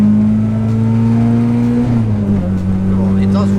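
A supercharged Mazda Miata MX5 accelerates in third gear. Its steady, close engine drone climbs slightly, then dips to a lower pitch partway through and carries on evenly.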